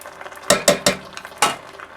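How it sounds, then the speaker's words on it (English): Canned petite diced tomatoes with their juice going into a pot for a South American locro: a few wet, clanking spoon-and-pot strikes in quick succession, then another, over a faint kitchen background. "now I'm going to add the tomatoes"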